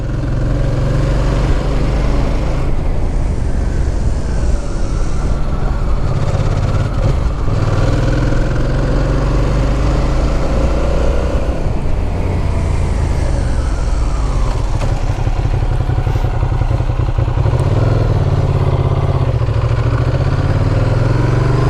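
Engine of a 2007 Ducati Monster 695 motorcycle rumbling with a thumpy, continuous low drone that rises and falls with throttle, loud and close throughout, no talking.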